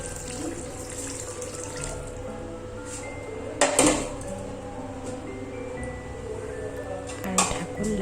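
Hot water pours steadily into a cooking pot on a gas stove in a home kitchen, a continuous splashing stream with a couple of brief metallic clinks from the pot.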